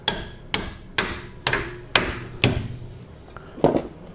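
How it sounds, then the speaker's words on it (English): A hammer strikes a bolt on a Kia Optima rear shock absorber again and again, giving six evenly spaced sharp metallic blows close up, then a pause and one last hit. "hammer that bolt out"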